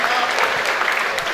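Crowd at a Congolese political event applauding, a brief dense burst of clapping at steady loudness.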